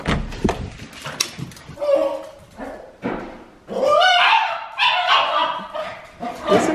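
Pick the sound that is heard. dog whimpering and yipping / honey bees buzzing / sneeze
dog whimpering and yipping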